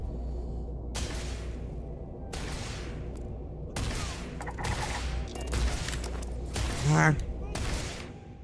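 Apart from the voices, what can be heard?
gunfire, video game Starfield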